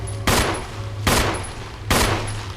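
Three sharp pistol shots from Resident Evil ring out at a slow, even pace, each a loud crack with a short decaying tail over a low steady game hum.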